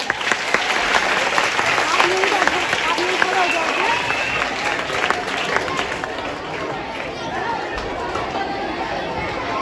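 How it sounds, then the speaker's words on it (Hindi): A crowd of schoolchildren and audience applauds loudly and steadily at a school magic show, dense clapping mixed with chatter and voices throughout, easing slightly toward the end. "तालियां जोरदार तालियां हो जाए।"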